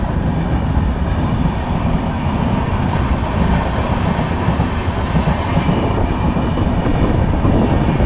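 A local train pulls out of Mecheda station on the Howrah–Digha line. A loud, steady rumble of wheels and carriages with faint clickety-clack runs unbroken throughout, with no voices.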